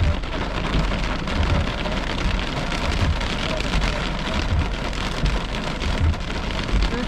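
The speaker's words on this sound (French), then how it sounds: "le rideau de pluie, il est droit en avant" A heavy rain downpour during a late-summer thunderstorm hisses steadily and densely, loud and close, with a constant roar and no voices throughout.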